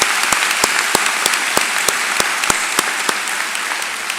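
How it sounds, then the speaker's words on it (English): Applause rings out at a fall university commencement ceremony for the FAU Army ROTC Color Guard, sharp individual claps standing out over a steady crowd wash that slowly fades. "please join me in giving another round of applause to the FAU Army ROTC Color Guard"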